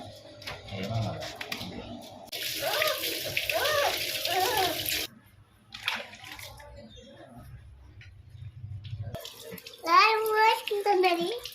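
Water gushes steadily from a tap into a bath for several seconds, then stops. Children and adults talk before and after the running water.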